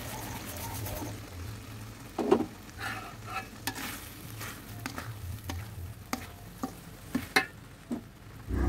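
A spice paste with sugar is stirred in a pan while making yellow sweet potato chips, with repeated soft scraping strokes over a low, steady sizzle, close and fairly quiet.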